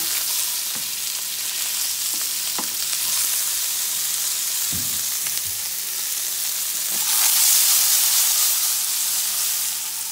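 Chicken chilli sausage frying in a pan, a continuous hiss and sizzle with a few soft clicks of a spoon stirring now and then, heard alone.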